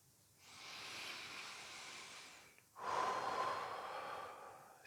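A deep breath drawn during a guided breathing exercise, with an airy inhale lasting about two seconds, a brief pause, then a stronger, louder breath rushing out close to the ear with no talking.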